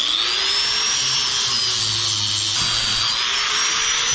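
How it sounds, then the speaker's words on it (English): Power sander working a boat hull back to bare wood, stripping old epoxy; a steady, loud, continuous whirring drone with a high whine, close and unbroken, with no talk. "Just gonna give it a good little bit of a sanding."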